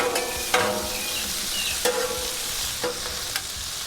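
Shrimp coated in garlic butter are stirred and flipped on a Blackstone flat-top griddle, giving a steady close sizzle broken by a few sharp scraping clacks of a spatula against the hot steel, with no talking.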